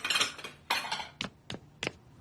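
Dishes and pots clatter during washing in a cartoon scene, a burst of jangling followed by three sharp separate clinks, fairly close with no talking.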